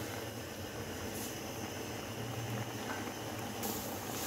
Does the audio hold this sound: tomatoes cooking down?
yes